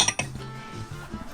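Glasses and dishware clink together in a toast inside a vintage RV: a few quick bright chinks at the start, then soft rattling, close by, with no talking.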